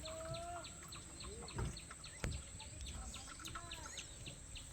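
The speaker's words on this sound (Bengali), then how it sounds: "পাখির আওয়াজ আর বাতাসের আওয়াজ ছাড়া কিছু নেই" Several birds call and chirp in the open in the Sundarbans forest, some whistled notes and short repeated calls, over a soft windy background hiss with a couple of brief knocks.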